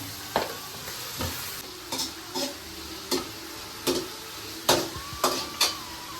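Vegetables fry in a hot pan with a little salt, stirred in repeated scraping strokes roughly every half second over a steady close sizzle.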